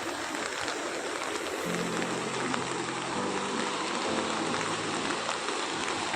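Heavy monsoon rain in Konkan beside a flooding river, a dense steady hiss of downpour with rushing water filling the whole stretch, loud and unbroken, with a low hum entering partway through.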